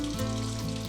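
Warm water, about one and a half cups, pours into a mixer bowl for a yeast dough, a short, steady, fairly soft splashing rush that lasts the whole moment.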